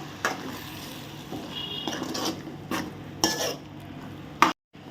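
Mashed dal and amaranth greens kootu is stirred in a pot, with soft wet mixing sounds and several distinct spoon knocks against the vessel before an abrupt cut to silence.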